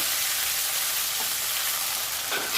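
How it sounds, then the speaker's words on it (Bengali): Cashews and raisins lightly frying in hot oil with whole garam masala spices, a dense, steady close-up sizzle throughout with no talk. "এখানে তেলে গোটা গরম মশলা ফোড়ন দিলাম আর দিলাম কাজু বাদাম কিশমিশ। এটা একটু হালকা ভেজে নেব।"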